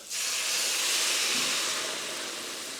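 Worcestershire sauce, hot sauce and beer hit a hot pan for New Orleans-style BBQ shrimp, bursting into a loud, steady steam hiss that starts abruptly and holds strong before easing slightly, with no voices.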